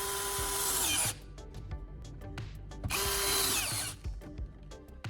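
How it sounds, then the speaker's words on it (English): A power drill drives screws through metal brackets to secure a bench grinder to its base: two loud, close whirring bursts of about a second each, separated by clicks and light handling knocks. "Using my drill, I drive screws through the brackets to firmly secure the grinder to the base."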